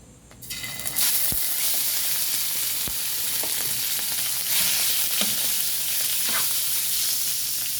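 Pork frying in hot oil in a pan for sotanghon guisado: a steady, close sizzle that rises after the first second and runs throughout, with occasional clicks and scrapes from stirring.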